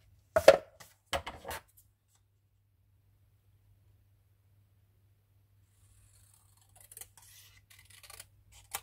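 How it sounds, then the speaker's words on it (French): Scissors snip paper for a carousel craft, with two or three quick close cuts near the start, a long silence, then faint rustling and handling near the end. "Ici, je coupe."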